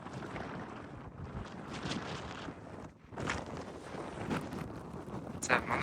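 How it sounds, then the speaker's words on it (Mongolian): Wind buffets the microphone outdoors on a trip to Altai Tavan Bogd, rushing in uneven gusts with a short lull partway through, while people speak under the roar. "энэ жоохон салхитай юм байна"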